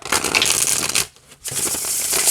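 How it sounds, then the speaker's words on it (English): A Yuletide Tarot deck is riffle-shuffled up close in two crisp, continuous bursts split by a short pause, with no voices. "I like how it shuffles."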